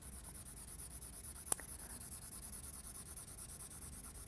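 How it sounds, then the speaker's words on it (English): A Derwent colour soft pencil rubs steadily across paper in a continuous scratchy texture, close and quiet, with one brief tap partway through and no talking. "So I'm going to lay down a layer of colour soft pencil."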